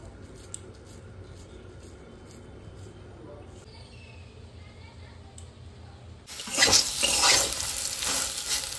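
Frying in oil: a quiet stretch of faint clicks and kitchen handling, then a loud close sizzle bursts in and crackles steadily to the end.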